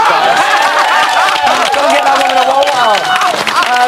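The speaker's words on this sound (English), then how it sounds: "Give him a clap." A studio audience at a Big Brother UK 2014 spin-off show claps and cheers loudly, a dense burst of applause mixed with excited crowd voices and shouting.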